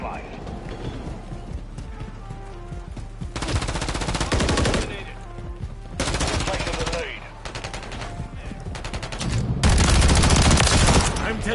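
Gunfire in the Call of Duty Modern Warfare 3 multiplayer map Grime: several loud bursts of rapid automatic fire come in separate bouts amid steady game noise, with voices talking between the volleys.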